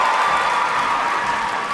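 Steady crowd murmur and distant cheering fill a large arena at a women's artistic gymnastics all-around competition, a continuous loud wash of many voices with no single standout shout.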